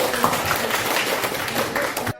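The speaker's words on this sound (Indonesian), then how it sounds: "Tepuk tangan untuk kita semua." An audience applauds after a school teacher's module presentation, a steady patter of many hands clapping at moderate loudness with some voices mixed in.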